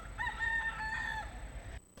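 A small rooster crows once in a single cock-a-doodle-doo lasting about a second, fairly clear against a low background hum, followed by quiet.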